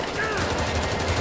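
Automatic weapons fire in the video game Payday 3, a dense, loud, continuous burst of rapid shots with no gaps, under speech.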